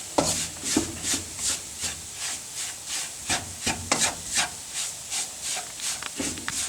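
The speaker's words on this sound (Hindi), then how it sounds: "तीनों बूटियों के सफ़ूफ जो है डालने के बाद हलवे को अच्छी तरह भून लें।" Halwa with three herb powders is roasted in a pan, heard as rhythmic scraping and rubbing strokes of a spoon against the pan, repeating roughly every half second, close and moderately soft.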